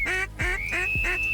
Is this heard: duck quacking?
yes